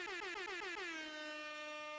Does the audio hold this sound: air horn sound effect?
yes